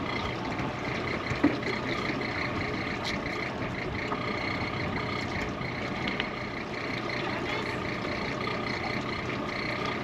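A dinghy's outboard boat engine runs with its propeller spinning in a windy anchorage, giving a steady, fairly loud, unbroken drone throughout.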